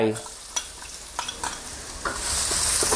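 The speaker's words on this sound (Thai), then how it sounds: "พอน้ามันร้อนใส่พริกกระเทียมที่เราโขกไว้ลงไป" Pounded chili and garlic sizzle in hot oil over medium heat, crackling steadily as a utensil scrapes and stirs the pan now and then.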